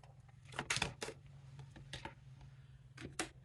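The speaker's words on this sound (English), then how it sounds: "I'm going to keep shuffling." Tarot cards are shuffled softly in a few quick papery bursts, quiet and close, with a faint steady hum underneath.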